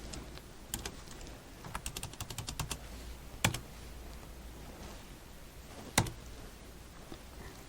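Typing on a computer keyboard while entering data into Douzone ERP iU software: quick bursts of soft key clicks, a couple of sharper single taps, close and quiet with no talk.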